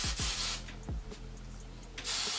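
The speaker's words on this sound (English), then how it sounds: "And then I fix it up a little bit with hairspray again." Hairspray hissing from an aerosol can onto a top knot bun, with a loud spray burst at the start, a quieter stretch and another burst near the end, close and with no talk.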